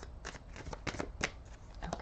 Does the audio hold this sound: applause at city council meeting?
no